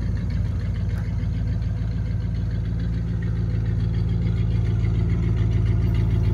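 A 1965 Oldsmobile Ninety Eight Holiday Coupé engine idles with a deep, steady rumble and throaty dual exhaust note, constant and loud throughout with no change in pace.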